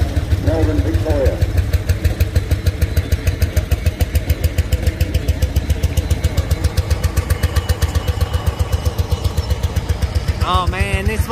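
An old tractor engine at a steam and traction rally in Booleroo chugs steadily with a rapid, even putter that runs throughout, and a voice speaks briefly over it near the start.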